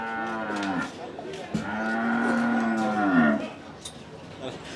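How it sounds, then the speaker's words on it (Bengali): A cow lets out two long, loud moos close by at the Hazratpur cattle market, where sacrificial cattle are sold for Eid, followed by faint background noise. "মাশাল্লাহ দর্শক দেখছেন আরেকটা গরু যাচ্ছে"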